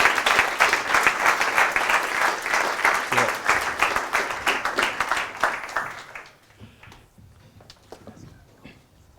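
Demo day audience in London applauding a team of teaching assistants, brisk loud clapping for about six seconds that then drops off sharply to a few scattered claps and murmurs.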